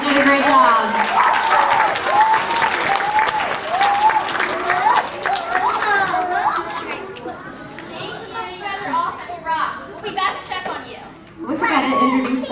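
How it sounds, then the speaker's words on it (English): Children at a school anti-bullying presentation clap for themselves, a loud burst of applause mixed with excited kids' chatter and shouting that fades, then returns briefly at the end, with adult speech partly over it. "Give yourselves a round of applause."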